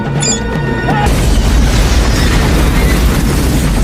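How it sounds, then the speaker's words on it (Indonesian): A loud bomb blast in an action film erupts after a moment of tense music, followed by a sustained heavy roar of rumbling debris and noise. "bom pun langsung meledak"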